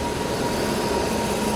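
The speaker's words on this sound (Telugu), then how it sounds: "ప్లాట్ఫామ్ నెంబర్ 2కి ఒక ట్రైన్ వస్తుంది కదా" A WAP-7 electric locomotive hauling LHB coaches rolls into a station platform, a steady dense rumble of wheels and traction noise holding at constant loudness throughout, with no voices.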